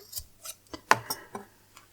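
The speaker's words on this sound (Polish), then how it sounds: "tą krótką końcówkę obcinam i w tym celu dobrze jest mieć ostre nożyczki" Sharp scissors snipping the short end of twine on a DIY plywood-and-string Christmas tree ornament, a few crisp isolated cuts with one louder clean snip in the middle.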